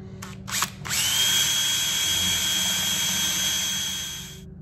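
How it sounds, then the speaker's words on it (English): After a few brief clicks, a power drill with a 1/8 inch bit whines steadily at high pitch for several seconds drilling metal trim, then winds down at the end. "we'll go ahead and drill a couple holes in this."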